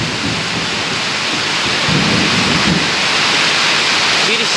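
Heavy rain falls in a continuous loud roar while low rolls of thunder rumble underneath, with no voices.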